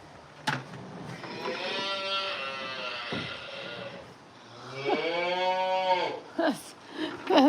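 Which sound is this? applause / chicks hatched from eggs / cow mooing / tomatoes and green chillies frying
cow mooing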